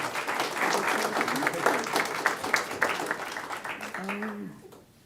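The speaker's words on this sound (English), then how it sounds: "Let's give them a round of applause." Audience applause at a school board of trustees meeting, a sustained round of clapping from a roomful of people that gradually fades, with a voice speaking faintly near the end.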